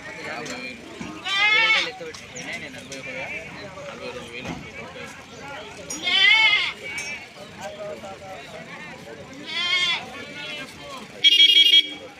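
Goats bleat at a weekly livestock market, several loud nearby cries spaced a few seconds apart, over a constant murmur of people talking in the crowd.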